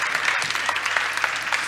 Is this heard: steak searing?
no